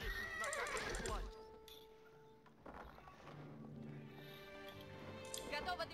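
Horses neighing and whinnying in the real-time strategy game Age of Empires IV, with a cavalry unit's clip-clop hooves and game sound effects mixed in; the calls are fairly loud and repeated over a few seconds alongside other in-game noise.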